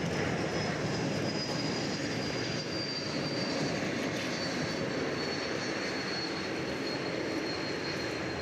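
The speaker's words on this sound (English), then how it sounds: "Here comes a Delta flight from LaGuardia Airport in New York, an Airbus A220." Airbus A220 jet airliner on a Delta flight approaching to land at Dallas/Fort Worth airport, a steady broadband engine roar with a faint high whine, sustained and fairly loud throughout with no talk.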